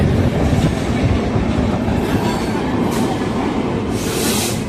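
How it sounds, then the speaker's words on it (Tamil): A passenger train on the Erode to Palakkad route near Podanur runs with steady, loud rolling rumble and wheel clatter, and a brief hiss of another train crossing swells near the end. "நம்ம ட்ரெயின் கிராசிங் எதிர்பார்த்தோம், இங்கே நடந்திருக்கு."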